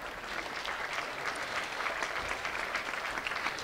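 A large audience at a school district scholars ceremony applauds steadily for National Merit finalists, producing a dense, even wash of clapping that holds at a constant level throughout.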